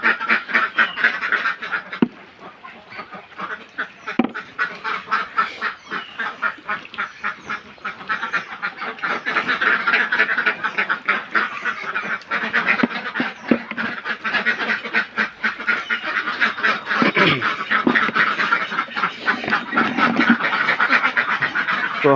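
A flock of egg-laying ducks quacks steadily and densely at close range, with many overlapping calls running throughout and no talking.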